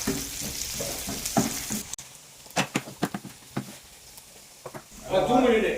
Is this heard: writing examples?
no